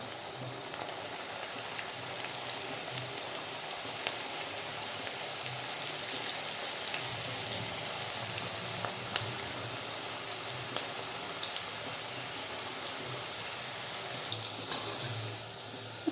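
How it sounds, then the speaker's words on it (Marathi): Onion bhaji fritters sizzle and crackle steadily in hot oil in a kadhai, a soft, continuous frying hiss with scattered pops, fairly quiet and close, with no talking. "ह्याला हे असं एकदम छान फ्राय करून घ्यायचं"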